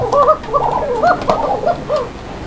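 Fancy pigeons at a market stall coo repeatedly in soft, throaty overlapping calls, close by and fairly loud, with no talking.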